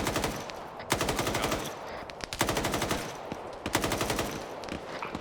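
Sustained machine gun fire in a military shooter video game, rapid loud close bursts with rattling repeated shots, broken by short breaks between strings, with no talk.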